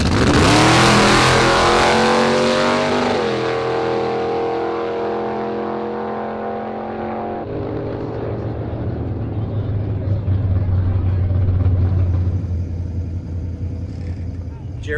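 A 1933 Willys race car with a 1960s body, its engine revving hard then dropping to a throaty idle before rising again, loud and close, with voices nearby.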